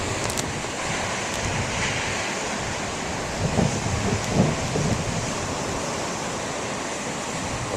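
Big ocean waves breaking on a beach, a constant loud roar of surf with wind buffeting the microphone and a couple of heavier crashes, no voices.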